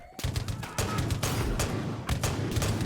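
Revolver gunshots in Far Cry 5, several sharp, loud reports fired in an uneven sequence with echoing tails and a low thumping background.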